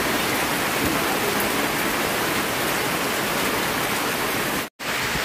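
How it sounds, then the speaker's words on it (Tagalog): Heavy rain pounds steadily on a roof, a dense, loud, continuous roar with no letup apart from one brief cut near the end. "Paminaw sa hinaguktok sa atop sa ulan."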